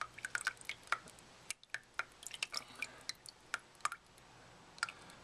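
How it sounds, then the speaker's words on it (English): Water drips from the bottom of a lifted Fluval Spec aquarium filter, a quick irregular series of small close plinks and taps over a quiet background. "There's a little bit of water dripping off the bottom there"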